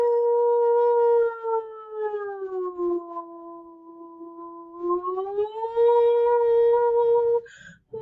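A human voice imitates an air raid siren, a sustained close tone that slides down, holds low, then rises again before cutting off abruptly, with no words spoken.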